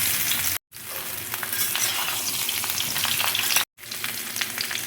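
Potatoes dropped into hot oil in a kadai sizzle loudly and steadily, the frying hiss broken by two short silent gaps.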